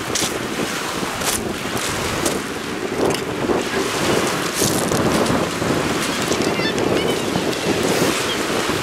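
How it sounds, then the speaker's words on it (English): Strong wind roars and buffets the microphone continuously on the Homer Spit beach in Alaska, with the faint wash of surf underneath and no voices. "It's pretty windy."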